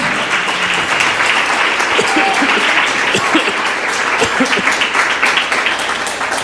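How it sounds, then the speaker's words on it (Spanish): Church congregation applauding in praise, a dense, steady wash of clapping filling the room at close range, with scattered voices mixed into the sustained applause. "Si lo crees, dale un aplauso al Señor"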